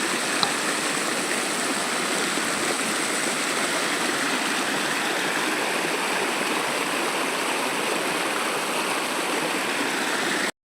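Stream water rushes steadily near a Sri Veera Anjaneyar temple in the Pollachi area, a loud, continuous broadband flow with no pauses and no voices.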